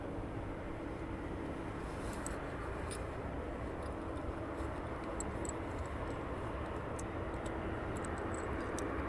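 An aircraft on approach to East Midlands Airport at night, a steady broad distant engine roar that holds throughout, with faint scattered ticks over the top.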